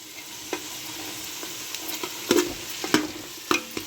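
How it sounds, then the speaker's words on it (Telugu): Vegetables with carrot stir-fried in a pan for veg fried rice: a soft steady sizzle, broken by several sharp scraping clinks of a spoon or spatula stirring, close by with no talk. "అలాగే ఇది ఒక్కసారి మళ్ళీ వేయించాలి. ఇలా ఒక్కసారి వేయించేయాలి."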